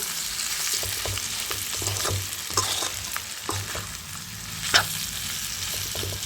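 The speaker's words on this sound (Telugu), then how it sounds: "కారం ధనియాల పొడి ఉప్పు మొత్తం పట్టేలాగా కలుపుకోవాలి" Chicken liver coated with chili, coriander powder and salt is stirred in a sizzling pan, a steady frying hiss broken by repeated scraping strokes of the spoon, with one sharper clink near the end.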